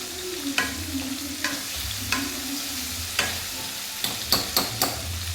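A spoon stirs food sautéing in a pan, knocking and scraping several times, with the taps bunching closer near the end over a low, steady sizzle; no voices.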